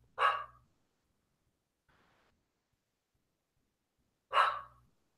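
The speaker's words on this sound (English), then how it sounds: "My dogs are barking." Two single dog barks ring out about four seconds apart, each sharp and fairly close, with near silence between them and a faint rustle in the middle.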